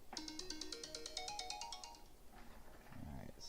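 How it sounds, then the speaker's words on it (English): Weather alert notification tone on radar software, a rapid repeating electronic ringtone-like chime played faintly for about two seconds, followed by a brief voice. "So that right there is our weather alert coming in."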